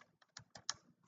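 Quiet, close keystrokes on a computer keyboard, about half a dozen uneven taps in just over a second.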